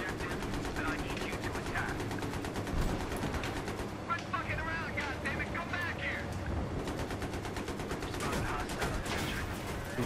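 Rapid machine-gun bursts and overlapping gunfire from the video game Battlefield 3, dense and continuous across the whole stretch, with players talking and calling out over the shooting.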